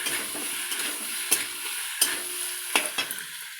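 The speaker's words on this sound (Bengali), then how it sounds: "এবার কষতে থাকবো কষে কষে কষে কষে" Spice masala is stirred and fried down in a pan for a pointed gourd curry, giving a continuous sizzle broken by several sharp scrapes and clanks of the spoon, close and fairly loud.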